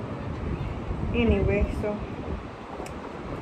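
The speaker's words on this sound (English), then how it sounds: "It's real windy, and I don't know why." Outdoor wind gusting hard across the microphone, a low blustery rumble that swells and eases, with a person speaking briefly over it.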